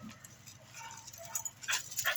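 Guard dogs whimper and yip softly outdoors in a garden setting, thin high cries rising in bursts toward the end over a steady noisy background.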